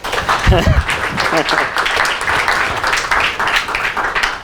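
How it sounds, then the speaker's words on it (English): Audience at a UCL energy seminar claps to welcome the speaker, a steady patter of many hands under talking voices. "You shouldn't clap until I've finished"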